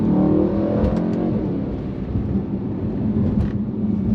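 Mercedes E63 AMG-S V8 engine held in second gear around 4,500 rpm in manual mode, a loud, steady low rumble from inside the car with a slight rise and fall, no talk.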